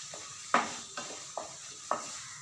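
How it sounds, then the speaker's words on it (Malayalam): Garam masala is mixed into meat in a pan, with four spaced scraping strokes of the spoon over a low, constant sizzle. Close by, with no talking. "മീറ്റിന് 1 ടേബിൾ സ്പൂൺ ഗരം മസാല മാത്രം ചേർക്കുന്നു, മിക്സാക്കുന്നു."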